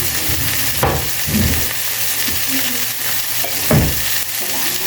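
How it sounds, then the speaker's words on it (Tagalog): Chicken curry sizzles and fries in a pan as coconut milk is poured in, with a loud steady crackle and a few stirring scrapes and bursts. "Okay, so ilagay na natin yung ating gata."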